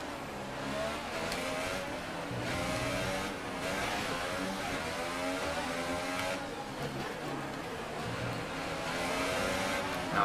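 A Formula 1 car from the F1 2018 racing game at the Singapore Grand Prix, its engine screaming continuously and loudly as the revs rise and fall through gear changes, with no talking.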